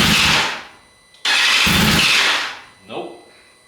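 A crash-repaired BMW S1000RR motorcycle engine cranks in two loud bursts, each cutting off abruptly, followed by a short fainter sputter that fails to catch.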